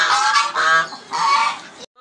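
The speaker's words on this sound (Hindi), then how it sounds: "फिर फाइट शुरू हो गई है उधर मुर्गी की" Aseel roosters fighting, giving loud, harsh honking squawks and cackles in three or four close bursts over about two seconds, near and clear with no talk, then a brief drop to silence.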